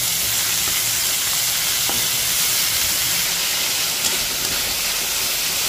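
Broad beans curry fries and sizzles in a pan, a steady dense hiss and crackle running throughout with a few small pops, close and moderately loud, with no talking.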